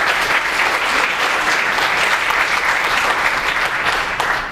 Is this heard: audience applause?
yes